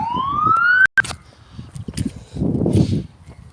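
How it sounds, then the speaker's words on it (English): A rising police or ambulance siren wail sweeps upward nearby, then cuts off, followed by scattered street and traffic noises and a rushing passing vehicle. "Oh, yeah, ambulance. Oh wow, and police"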